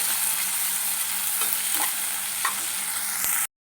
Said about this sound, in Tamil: ஒரு கைப்பிடி அளவுக்கு கொத்தமல்லி தண்டோடு சேர்த்துக்கலாம் இதை போட்டு இதை வதக்கிக்கலாம்